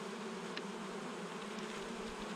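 Honey bees at an open hive during treatment and feeding, a steady dense buzzing drone filling the whole clip, close and continuous with no talk.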